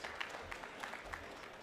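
Audience applause for Professor Tony Nyong after his address, a steady wash of clapping at moderate distance with a few louder claps standing out, no voices over it.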